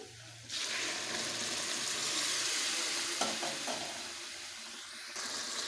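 Hot water is poured into a pan of frying potato and pointed gourd curry, setting off a sudden loud, steady sizzle and bubbling that stays close and fades slightly toward the end, with stirring and no talking.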